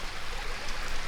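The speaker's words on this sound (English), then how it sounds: "I'm just gonna pee in the water here" A man urinating into stream water outdoors gives a steady, close splashing trickle with an even hiss that never breaks over the short stretch.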